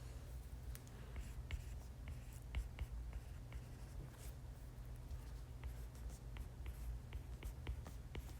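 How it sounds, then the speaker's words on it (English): Marker or chalk writing on a board during a chemistry lecture: a string of light scratchy strokes and taps over steady room hum, faint and unaccompanied by talk. "I'm just going to write it."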